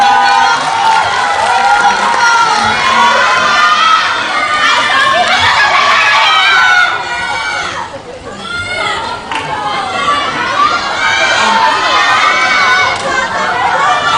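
A movie-talk event crowd applauds and cheers as four actors walk off, a loud sustained wash of clapping, shouts and excited chatter that dips briefly midway before swelling again, with a host's voice through it.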